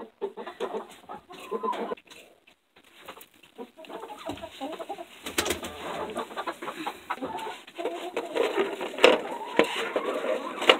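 Chickens cluck and call in a henhouse while eggs are gathered by hand, a steady stream of close, busy fowl chatter with brief pauses and bursts of movement.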